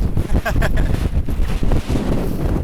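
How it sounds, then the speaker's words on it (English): Strong wind on Kinder Scout in the Peak District buffets the microphone in a loud, continuous roar, with brief talking mixed in. "It's very windy."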